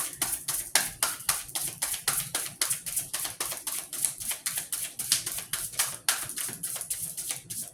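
Tarot cards are handled and laid out on a surface, giving a quick run of soft, crisp taps and flicks in a steady rhythm, close and fairly quiet with no talking.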